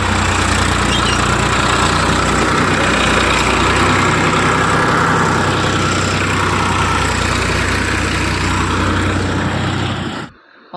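A garbage collection tractor idles outside with a loud, steady low diesel rumble that holds for about ten seconds and then cuts off abruptly near the end.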